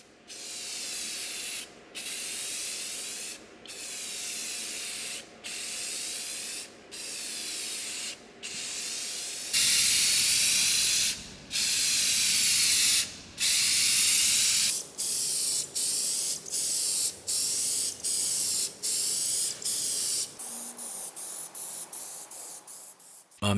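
A can of Rust-Oleum wood sealer is sprayed in a series of hissing bursts, some long and some short, onto old drawers. Each spray stops cleanly before the next, and nobody speaks.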